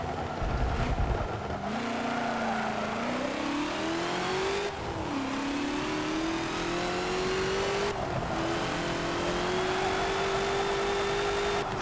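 A race car engine in Forza 7 is held at full throttle, a loud, rising whine that climbs steadily and breaks briefly at two gear shifts, close and continuous.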